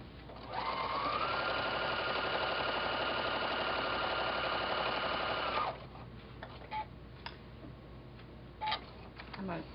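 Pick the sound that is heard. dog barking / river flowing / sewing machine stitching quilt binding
sewing machine stitching quilt binding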